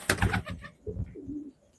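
A burst of broadband rustling, then a couple of soft, low coos from a female pigeon close by, with quiet gaps between.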